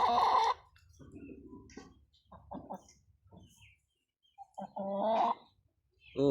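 Chickens with chicks, some of them large hens, cluck and call in short bursts separated by quiet gaps, close by and clear with no talking.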